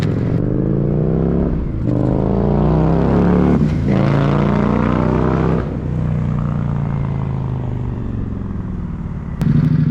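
An Indian Sport Scout Limited motorcycle engine runs loud and close in a steady rumbling drone, its pitch rising and falling through several revs with brief dips, no voices present.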